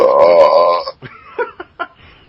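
One loud, deep burp rolls out for almost a second. Brief, choppy speech-like sounds follow right after.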